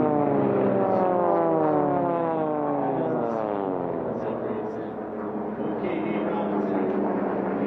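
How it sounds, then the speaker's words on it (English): Four racing aircraft bunched together at an air race sweep past with a droning, sliding propeller roar that rises and falls in pitch, loud and steady throughout, under a commentator's voice. "White, look at this, 4 aircraft all bunched up right together"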